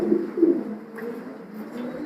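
A 2021-ringed Kittel pigeon gives low, throaty coos, two stronger pulses at the start followed by a quieter hum, close by with no talking.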